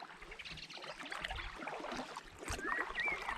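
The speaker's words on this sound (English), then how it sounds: "Blackbird sounds lively, doesn't it?" A blackbird sings outdoors near water, its brief fluting whistled phrases rising faintly over a steady background wash of moving water and boat noise.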